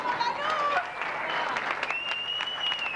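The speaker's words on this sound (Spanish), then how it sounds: "Aplauso para la participante número uno." An audience at a party applauds a contestant, a lively spread of clapping with a few whistles and tonal cries rising above it, moderately loud and sustained.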